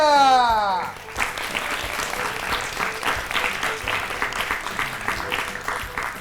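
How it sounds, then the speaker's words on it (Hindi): Loud applause breaks out for a correct answer on a children's quiz show, dense clapping following a brief musical sting at the start and continuing strongly to the end. "जोरदार तालियां"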